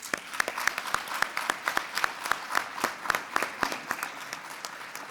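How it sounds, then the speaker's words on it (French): An audience at a UNESCO ceremony applauds with sparse, distinct claps that stand out over a soft crowd bed. The clapping keeps up evenly for several seconds at a moderate distance. "je vous invite vraiment à les applaudir"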